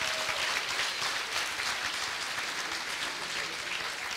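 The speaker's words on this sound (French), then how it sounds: "on peut les applaudir" A graduation audience applauds the 2023 Master CCA graduates, with dense, continuous clapping that fills the room at a steady, fairly loud level throughout, without any voices.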